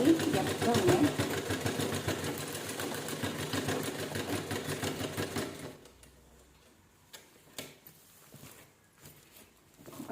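A domestic sewing machine stitches a door mat made from scrap blouse pieces, running in a steady rhythmic whir for about six seconds before stopping, followed by soft handling clicks and quiet rustles.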